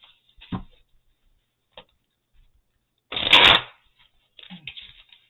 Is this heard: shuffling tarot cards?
yes